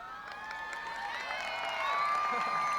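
A large outdoor crowd cheering and whooping at a 1996 rally for President Clinton in Michigan City, Indiana, with voices and shouts swelling steadily over nearly three seconds, fairly distant and diffuse.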